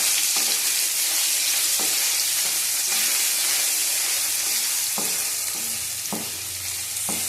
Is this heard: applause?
no